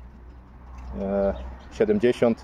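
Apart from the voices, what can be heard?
pigeons cooing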